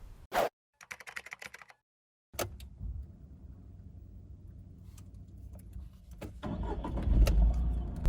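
A used 2016 Tata Tiago with a 1.2 litre three-cylinder petrol engine and 16,000 km on it gives a few clicks and a key turn, then the engine cranks, fires and idles before revving up as it pulls away.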